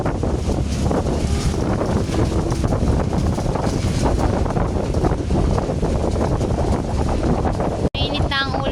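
Strong wind buffets the microphone aboard a boat travelling to Mindoro, a continuous loud roar with water and engine noise beneath, ending in a brief cut followed by a faint sound.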